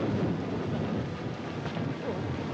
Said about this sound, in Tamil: டேய் பா, மழை ஏறி வருது.